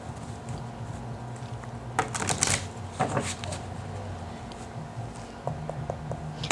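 Tarot cards being shuffled, a few quick riffling bursts in the middle of a quiet room with a low steady hum underneath, fairly close and moderately loud.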